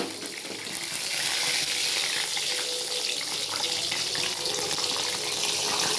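Ginger garlic paste frying in hot oil, a loud, steady hiss and crackle that holds constant throughout without talking.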